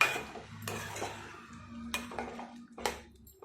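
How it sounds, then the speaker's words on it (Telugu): A metal lid is set on a cooking pot of cashew and drumstick curry, giving a few sharp clanks and scrapes of metal on metal close by, with a low hum underneath. "ఒకసారి మూత పెట్టేసుకున్నాం."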